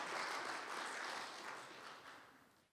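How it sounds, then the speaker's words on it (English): A round of audience applause at a panel discussion, dense, even clapping from a crowd that slowly fades toward the end, with no talking over it. "If you did, give them another round of applause."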